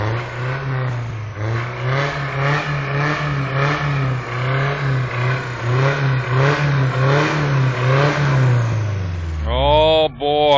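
A vehicle motor revving hard and repeatedly in rhythmic pulses while stuck after breaking through ice, loud and close, before winding down near the end.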